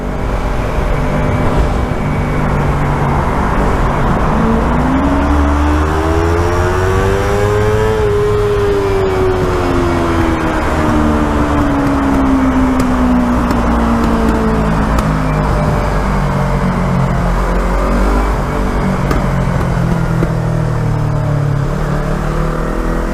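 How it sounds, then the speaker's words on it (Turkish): A steady roar of heavy road traffic, heard from a motorcycle, with a car engine revving and shifting pitch as it accelerates, loud and close throughout, with no talking. "Bayağı trafik var burada."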